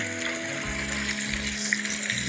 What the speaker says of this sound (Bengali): আমি ডিমগুলোকে উলাট পালাট করে যে ভেজে নিচ্ছি